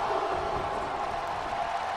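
Arena crowd in the WWE 2K19 wrestling game cheers approvingly as a wrestler kicks out of a pin, a steady, dense roar of many voices sustained throughout at an even level.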